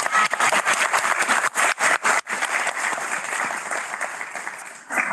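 Audience applause at a 2024 global health graduate commencement ceremony, a dense burst of clapping from many hands that swells and then gradually thins, fairly loud and filling the room.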